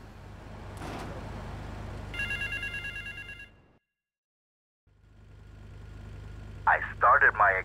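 A payphone in the GTA III video game rings in a short burst of repeated electronic trills over a steady car engine hum, then goes silent before the engine returns and a few sharper tones sound near the end.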